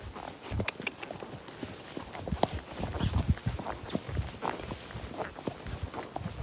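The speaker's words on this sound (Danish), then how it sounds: "Der er bare en kort trav til vloggen." A pony trots along, its hooves clip-clopping in a quick, steady rhythm that sounds fairly close, with some faint background noise and no one talking.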